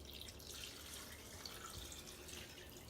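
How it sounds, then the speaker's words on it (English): Turkey cooking juices poured over pulled turkey meat, a faint steady trickling and splashing of liquid heard close up for a few seconds, with no voices. "this is all the juice that it cooked in. So I am gonna just pour that"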